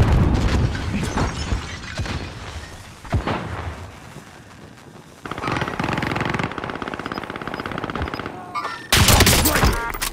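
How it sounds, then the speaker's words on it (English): Gunfire from a sniper in the shooter game Call of Duty: Modern Warfare, a series of loud sharp cracks and booms spread across the stretch with rumbling bursts between, close and heavy. "He's behind the roof, sniping, man."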